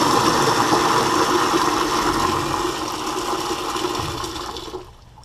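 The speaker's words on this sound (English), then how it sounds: "Give this guy a flush again." A flushometer valve on a toilet, newly adjusted to a reduced flush, sends out a steady loud rush of water for about five seconds before cutting off abruptly.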